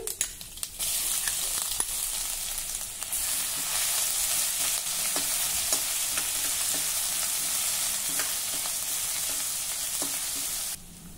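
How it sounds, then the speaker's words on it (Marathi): Mustard seeds, cumin and crushed garlic fry in hot oil for a tempering, giving a steady, close hiss of sizzling with small scattered pops throughout, then a brief quieter moment at the very end. "आलं लसूण हलक्या तांबूस रंगावर परतून झालं"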